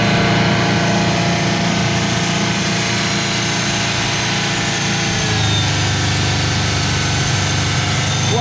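An engine with a leaking intake manifold idles steadily and loudly up close, its hum and rattle continuous and slightly dropping in pitch near the end, with no voices.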